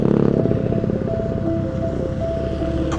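A motorcycle engine drones steadily and loudly for a few seconds while riding through traffic in Balikpapan, Indonesia, with a constant rumble and a faint whine.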